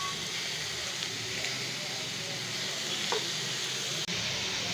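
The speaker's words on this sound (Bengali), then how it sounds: "দিয়ে ভালো করে এগুলোকে একসঙ্গে ভেজে নেব" Shrimp and potatoes fry in a pan with a little oil, salt and turmeric, giving a steady, loud, continuous sizzle that holds throughout with only a faint tap near the end.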